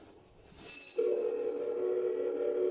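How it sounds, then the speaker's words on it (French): A telephone rings unanswered, a steady electronic ring tone holding for about two seconds after a brief higher chirp, fairly close and clear with no voices. "Ils ne répondent même pas au téléphone."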